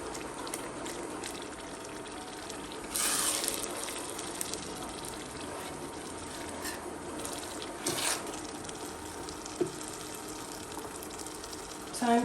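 Vegetable oil fries in a pan with a steady, even sizzle throughout, broken by a couple of brief louder hisses and a faint clink near the end.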